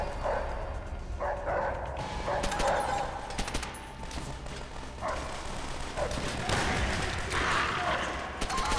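Dogs barking in the World War II shooter Call of Duty: World at War, repeated sharp barks and yips mixed with bursts of gunfire and battle noise, with someone talking over the action.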